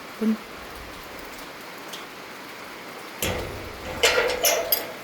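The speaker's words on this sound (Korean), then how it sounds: "아, 빗소리 너무 좋다." Rain falls in a steady, soft hiss near a countryside home by a farm field, broken by a few louder clatters and taps toward the end.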